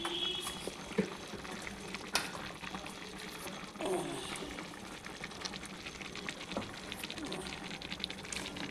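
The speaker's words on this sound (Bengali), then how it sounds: "ঝোলটা ফুটে উঠেছে" Vegetable broth with bottle gourd greens, potato, beans and brinjal comes to a boil in a pot, giving a faint, steady bubbling hiss with occasional small clinks and knocks.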